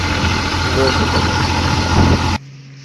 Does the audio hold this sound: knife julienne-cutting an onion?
no